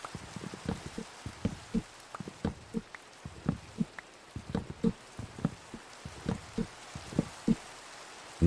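Rain falls in the Minecraft video game, heard as soft scattered drops tapping at an irregular rhythm, fairly faint against a quiet background with no talk.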